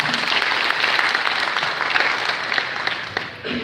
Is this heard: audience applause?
yes